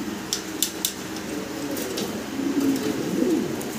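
Fancy pigeons coo softly in low, rolling murmurs, rising toward the end, with a few sharp metallic clinks scattered over a steady background hum.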